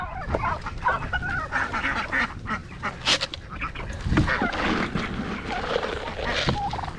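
Ducks and turkeys call together at feeding time on a farm, a busy overlapping din of quacks, gobbles and honks that runs steadily throughout, fairly close and loud.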